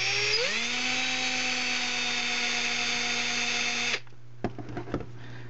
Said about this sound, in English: put your drill on the slowest speed, so it doesn't just go right in like a fraction of a second